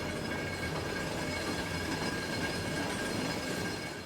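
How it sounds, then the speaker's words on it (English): Cog railway locomotive climbing Mount Washington, a steady, dense mechanical rumble with a rail-car rattle and faint wheel squeal, continuous and fairly distant throughout, with no voices. "A cog locomotive is like nothing you've ever seen"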